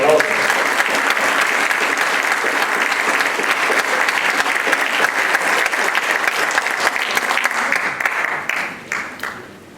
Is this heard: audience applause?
yes